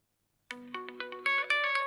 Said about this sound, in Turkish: Mesela Bir Derdim Var şarkısını açacağım şimdi.